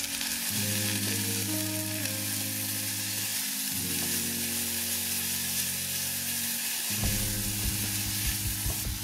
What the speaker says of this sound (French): je verse un peu d'huile de colza et j'y dépose mes tranches d'oignons émincés. Je vais les faire revenir.